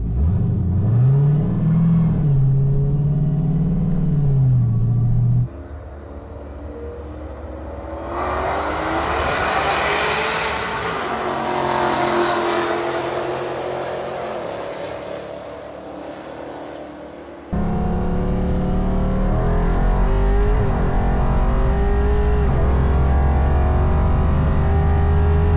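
During a drag race, a 2JZ-swapped Dodge Hellcat with a manual gearbox and a turbo runs against a Dodge Demon 170. Loud engine revving gives way to a rising, whining acceleration that fades, then a deep idle rumble returns close by.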